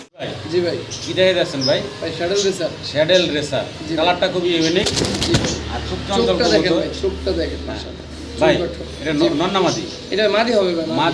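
Caged pigeons coo softly at a pigeon seller's, low murmuring calls half-buried under nearly continuous close conversation between men.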